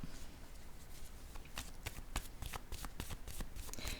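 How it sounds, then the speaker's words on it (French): Cards from a deck are shuffled and drawn with quiet, repeated papery flicks and snaps that grow busier toward the end, faint against soft room noise. "allons-y avec deux cartes de mon jeu haut"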